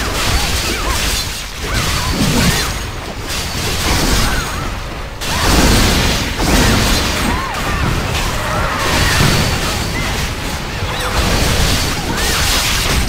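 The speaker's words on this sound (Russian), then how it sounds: "Артиллерия начала стрелять, понятно." Siege artillery fires during a castle siege battle in the online game TERA, a dense, continuous barrage of booms, crashes and whooshes layered with battle noise.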